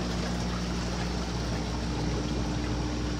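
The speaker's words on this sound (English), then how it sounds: "so it's making big bubbles" Air bubbling steadily in a fish tank at the Tarleton Hydrotron, a continuous watery hiss and gurgle with low pump hum, even and unbroken throughout, with no voices.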